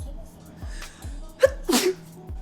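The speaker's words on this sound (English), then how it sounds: "I gotta sneeze." A person gives a single sharp sneeze, a quick intake followed by a loud burst, heard close against a soft background of faint repeated low thumps.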